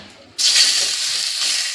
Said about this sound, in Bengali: মাছের তেলটা দিয়ে দিলাম